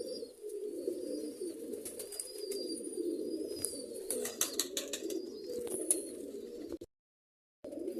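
Pigeons coo in a low, steady, rolling murmur, with scattered chirps, flutters and brief rustles over the top, close and continuous before a short silent gap near the end.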